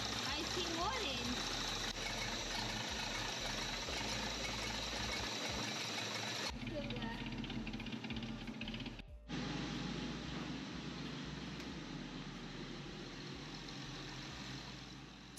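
A 1954 Jaguar XK120 engine idles steadily during idle-speed adjustment, with a continuous rumble and a brief dip partway through. Speech is heard over it.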